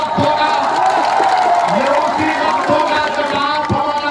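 A large outdoor political rally crowd in the hills of Mewat cheers, shouts and whoops loudly and continuously, with scattered voices rising above a dense, steady roar.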